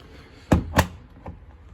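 A plastic detergent tray on a Samsung Ecobubble washing machine is pushed shut, giving two close, solid thunks in quick succession followed by a fainter knock.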